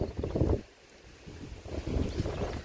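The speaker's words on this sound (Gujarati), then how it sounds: "પવન જ બહુ ચાલે છે જુઓ આમ કપામાં દેખાય છે પવન કેટલો ચાલે છે" Wind gusts over a cotton field buffet the microphone in low, rumbling bursts, easing briefly before blowing hard again.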